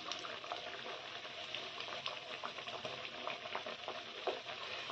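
Rice tikki fry in a pan with a steady, busy sizzle and crackle of hot oil, close and continuous with small pops throughout.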